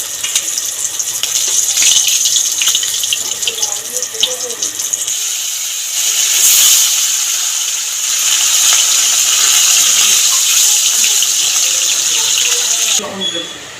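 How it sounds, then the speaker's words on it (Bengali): Pieces of katla fish fry in hot oil for a malai katla dish, giving a loud, steady sizzling hiss that runs almost unbroken and eases off briefly at the very end. "এরম করে সব কটা মাছ ভেজে নেব"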